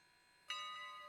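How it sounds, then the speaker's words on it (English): A locomotive bell in the railroad simulation game Railroader starts suddenly after a short quiet moment, ringing with a bright, sustained metallic tone that lingers and slowly decays, fairly soft overall. "There we go. There's the bell."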